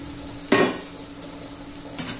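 A lid lifted off a cooking pan holding a vegetable dish with crushed peanuts, giving two short metallic clanks about a second and a half apart over a faint steady hum, close and fairly loud.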